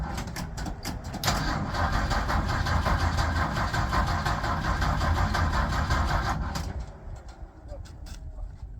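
Bombardier snow vehicle engine cranking and catching after sitting idle for weeks in sub-zero cold, then running loud and steady up close for several seconds before cutting out, with voices talking over it.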